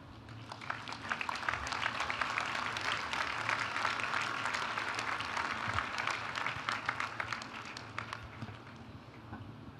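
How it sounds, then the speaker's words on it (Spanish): Sustained applause from a large audience at a university graduation ceremony for master's programs, a thick continuous roar of clapping lasting about ten seconds, heard from a moderate distance. "Recibámoslo con un fuerte aplauso."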